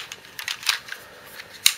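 Guns on a 1987 M.A.S.K. Buzzard toy vehicle being loaded and locked back into place: a series of small sharp plastic clicks and snaps, close, ending in one louder click, no voices.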